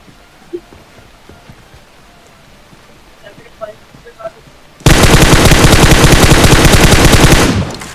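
Sustained automatic gunfire from the mobile battle-royale game PUBG Mobile erupts abruptly after a quiet stretch of faint game ambience, a loud rapid burst lasting about three seconds before cutting off.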